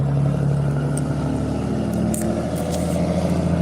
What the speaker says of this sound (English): that is the noisiest damn truck I've heard all day